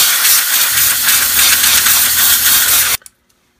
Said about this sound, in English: It's a good idea to use like a vacuum attachment to clean this out, but I use high pressure air.